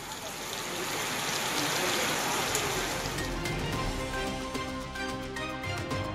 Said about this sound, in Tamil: தமிழகத்தின் பல்வேறு பகுதிகளிலும் பரவலாக மழை பெய்தது.